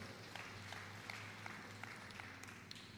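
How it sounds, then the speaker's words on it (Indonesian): A church congregation applauding together, a steady patter of many hands clapping at moderate distance, fairly faint and continuous with small sharper claps poking through. "Tepuk sorak dulu bagi Allah kita"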